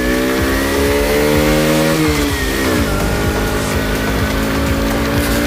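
A small Romet Pony 50 moped engine buzzes loudly and steadily up close, its pitch rising and dropping as the rider shifts and accelerates.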